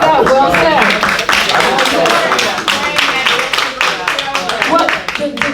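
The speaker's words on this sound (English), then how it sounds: "Well, I clap that." Hands clapping in a lively studio talk conversation, quick bursts of claps mixed in and under overlapping voices throughout.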